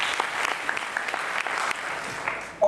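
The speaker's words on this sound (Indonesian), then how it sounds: "Give a big hand to Jesus." A church congregation claps together in sustained, dense applause that carries on steadily before cutting off abruptly at the end.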